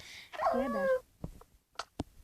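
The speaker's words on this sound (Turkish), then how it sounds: "Robot köpekler." Robot dogs in a horror video game, giving a short whining, whimpering canine cry followed by a few sharp yips and clicks, close and fairly loud against a quiet background.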